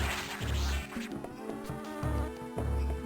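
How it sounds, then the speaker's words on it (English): Bees buzz in the Metroid Fusion video game, a loud, wavering electronic drone pulsing in short repeated swells. "Bye, bees!"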